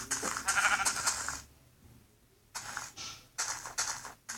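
Several Minecraft sheep bleats in quick succession, clear and close, with a short quiet pause before more bleating resumes.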